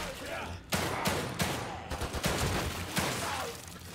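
Gunfire in The Evil Within 2 comes as loud, sharp shots in irregular bursts, the shots clustering closely through the middle, with ambient game noise in the pauses between them.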